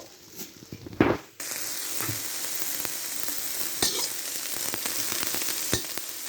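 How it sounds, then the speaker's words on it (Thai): Chili peppers sizzle and hiss steadily in a pan after a brief clatter, a little water added as they stir-roast, with occasional scraping stirs cutting through the continuous frying. "พริกนี่หยอดน้ำลงไปหน่อยนะครับ แล้วก็คั่วไป เรื่อยๆครับ"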